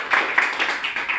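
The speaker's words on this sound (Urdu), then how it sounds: "ماشاءاللہ کے لیے تالی ہے جی" A small audience at a sales training session in Karachi claps together in a brief, lively round of hand claps, close and moderately loud, with the beats blurring into a short applause.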